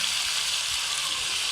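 Tomatoes tipped into a hot pan of mulakaya curry fry with a steady, close hiss that stays even and unbroken throughout, with no talk over it.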